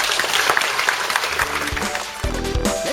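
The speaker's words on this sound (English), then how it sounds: "let's give Charlie a round of applause" A round of applause at an online children's holiday club with a big-top circus theme. The clapping sounds scattered and mid-level, with a voice and some bumps coming in near the end.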